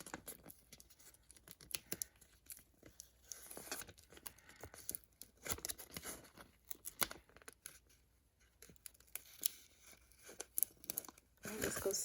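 Backing paper peeled slowly off Cricut vinyl for a cake topper, giving close crackly tearing and crinkling bursts that come in uneven runs, with soft handling noise between them.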